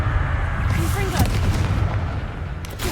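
Confringo fire spell blasts in the game Hogwarts Legacy, rendered as deep, booming explosive bursts over a continuous rumbling battle din, loud and close.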